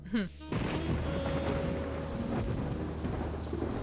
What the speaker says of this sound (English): And it started thundering outside.